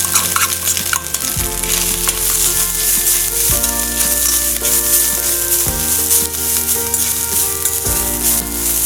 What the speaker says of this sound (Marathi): किस थोडा परतून घ्यायचा आहे।